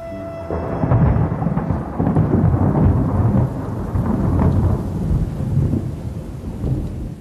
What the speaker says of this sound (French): La pluie et la neige durent des jours.